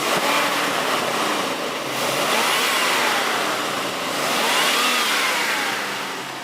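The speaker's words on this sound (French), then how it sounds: "Et un joli moteur se lance bien" A 1967 Ford Mustang Fastback S-Code V8 idles steadily nearby, giving a continuous broad rumble that swells gently and eases off, with no voices.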